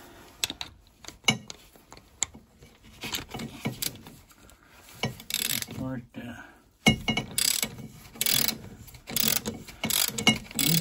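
A socket ratchet wrench works on a spark plug of a Mercruiser boat engine, producing bursts of rapid clicking pawl ratchets interspersed with clanks and handling noises, close by.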